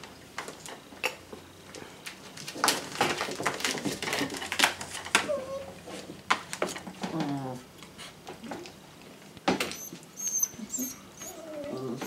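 Young puppies scrapping and play-fighting in their crates, giving off a busy, continuous mix of yips, squeaky whines and rattling scuffles at close range, with one louder yelp late on.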